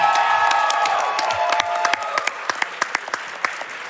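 A crowd at a Games Done Quick speedrun charity event applauds and cheers for Super Mario Sunshine lockout bingo runners, steady dense clapping with scattered whoops, fairly close and loud, thinning into sharper individual claps toward the end.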